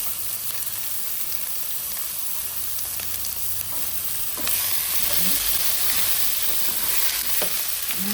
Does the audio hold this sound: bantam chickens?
no